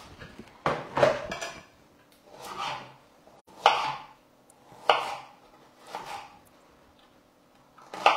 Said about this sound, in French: je vais peut-être recouper un petit peu mon oignon par contre